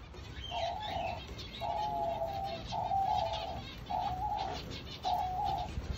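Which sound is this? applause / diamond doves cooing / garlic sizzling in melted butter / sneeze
diamond doves cooing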